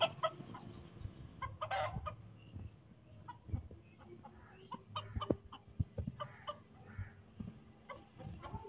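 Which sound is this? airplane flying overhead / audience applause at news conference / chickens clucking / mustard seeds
chickens clucking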